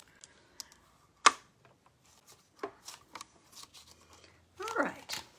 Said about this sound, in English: Let's cut out the wheelbarrow while I'm cutting this.